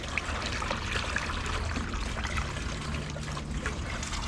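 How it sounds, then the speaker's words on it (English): Water runs from an outdoor garden faucet into a pitcher, a steady close trickle and splash that continues without a break. "It takes a minute for pitchers to fill up from the faucet."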